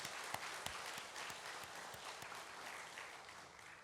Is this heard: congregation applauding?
yes